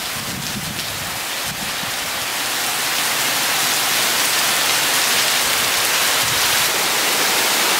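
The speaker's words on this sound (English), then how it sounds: "look at that rain" Heavy rain pours down in a steady, dense hiss, loud and close, with no voices over it.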